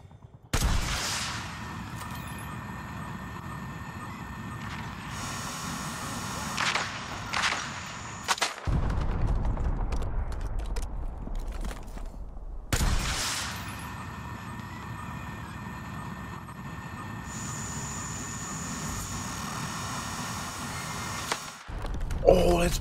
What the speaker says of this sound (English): Breaking out rocket launcher.